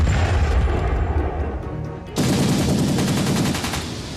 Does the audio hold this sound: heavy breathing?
no